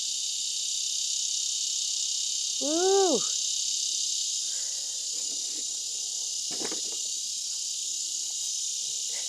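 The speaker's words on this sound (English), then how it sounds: "Do you hear that? That's a cicada." A steady, loud insect drone, like a cicada, buzzes without pause through a porch garden. A person gives a short whooping exclamation partway through.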